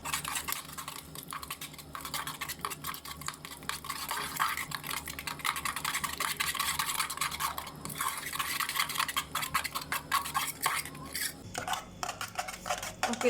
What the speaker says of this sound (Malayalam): ആദ്യം നമുക്ക് ഇതൊന്ന് മിക്സ് ചെയ്ത് കൊടുക്കാം നന്നായിട്ട്.